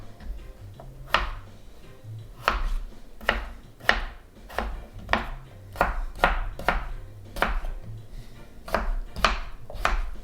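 Potatoes chopped with a knife on a cutting board, a run of sharp, irregular thuds close by, steady for about ten seconds with no talking.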